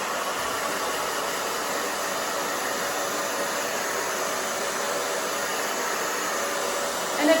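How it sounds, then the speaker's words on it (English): A hair dryer blows steadily on short, layered A-line cut hair, a constant close airy roar with no break for the full length and no voices. "now I'm going to dry the opposite way so you can get the volume"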